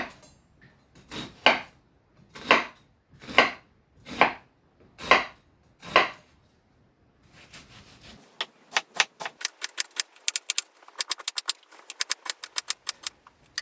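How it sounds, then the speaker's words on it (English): A knife roughly chops an onion on a board: about seven slow, heavy, evenly spaced strokes, then a quicker run of sharp, rapid taps, close and clear with no talking. "So let's start by roughly chopping our onion."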